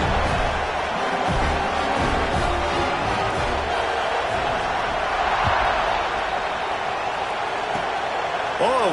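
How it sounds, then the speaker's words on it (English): Stadium crowd at an NCAA college football game buzzing with broad, steady roar after a score, with a commentator's voice running over the noise throughout. "this crowd is buzzing after that last score"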